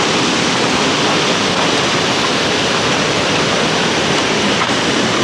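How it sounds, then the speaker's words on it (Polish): Huay To Waterfall in Thailand roars as a loud, continuous broadband rush of falling water that stays steady from start to finish, close by and with no voices. "Tyle z tego pięknego wodospadu jak dla mnie."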